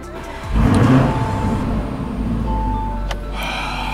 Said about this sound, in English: we're gonna start the car in sport because apparently in sport it sounds better